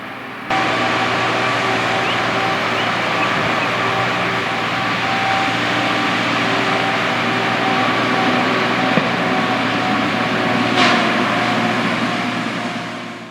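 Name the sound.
old forestry machines clearing trees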